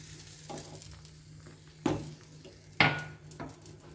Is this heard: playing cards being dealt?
no